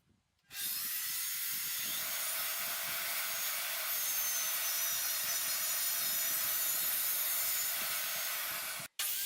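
A table saw cuts a spline slot into a wooden tenon for a Japanese-style piano table, giving one continuous loud, close whirring rasp from start to finish with no talking.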